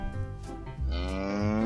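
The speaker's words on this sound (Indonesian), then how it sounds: "ada induk sapi lucu teman-teman, warna biru." Cow mooing, a long, loud, drawn-out low call close by, heard alone.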